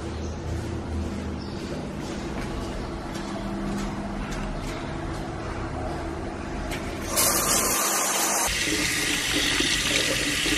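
Shower water runs steadily at a campsite, a continuous close hiss and splash that grows brighter and louder near the end as the spray shifts, with no talking.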